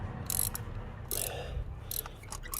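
Ratchet wrench clicking while loosening a spark plug on a 2015 Chevy Spark engine, with short bursts of close, crisp clicks separated by pauses.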